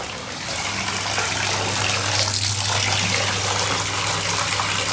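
Tap water pours steadily into a bathtub for a cold bath with ice added, a continuous close splashing rush holding even for several seconds with no talk.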